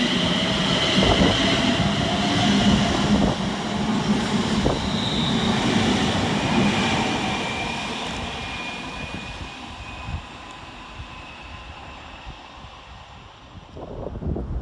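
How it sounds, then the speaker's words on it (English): Two coupled London Northwestern Railway Class 350 electric multiple units departing Nuneaton station: a rising electric whine and rolling rumble, loud at first, then fading steadily into the distance. "350-407 and 350-104, departing with the 11:35 London Northwestern Railway service"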